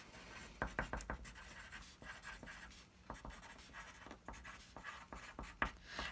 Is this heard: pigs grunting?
no